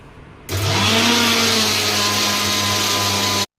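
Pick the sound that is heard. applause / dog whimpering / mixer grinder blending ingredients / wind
mixer grinder blending ingredients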